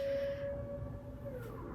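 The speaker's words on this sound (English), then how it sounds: "every Monday, the first of the month, this siren happens" A civil defense siren sounds during its monthly test on the first Monday, a steady far-off tone that holds, then slowly slides down in pitch, heard alone without talking.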